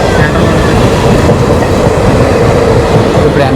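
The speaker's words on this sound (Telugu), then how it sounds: "గుడ్స్ రైలు అది అటువైపు." A goods train passes on the adjacent track during a Vizag to Tirupati rail journey, making a loud, steady, close rumble with rattling wagons and wheel clatter throughout.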